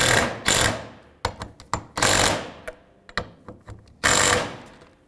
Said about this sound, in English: put the bolts in, get them all started, and tighten the bolts down